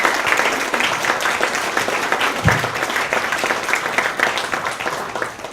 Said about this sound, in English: So if you feel like applauding, please do